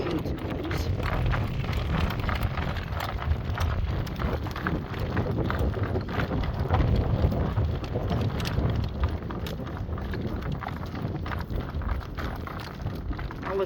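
Strong wind roars across the microphone throughout a horse-drawn carriage drive, a constant close rumble with faint hoof clip-clop and rattles underneath and no talk.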